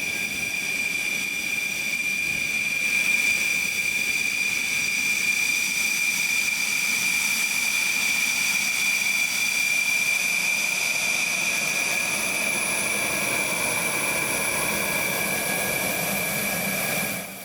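Indian Air Force Rafale fighter jets taxi from their shelters toward the runway at Hasimara, a continuous loud engine roar with a high turbine whine held steady throughout.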